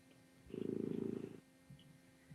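A male cat purrs steadily for about a second, a close, soft rumbling burst that stands alone in a quiet room before fading out.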